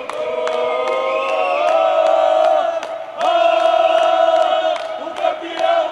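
Football crowd at a match in Cachoeira do Sul chanting and cheering together, loud sustained massed voices rising and falling in waves, close and full, with a brief dip midway before surging again.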